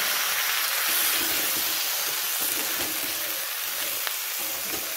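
Water poured into a hot pan of Bengali shukto hits the oil with a loud, steady sizzle and hiss that holds without a break, bright steam-like frying noise, no voices.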